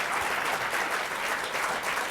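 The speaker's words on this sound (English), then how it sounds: "we got to give another round of applause for a great lecture" Dense, even applause fills a lecture hall after a talk on mercy in biblical law, a steady roar of many hands clapping without a break.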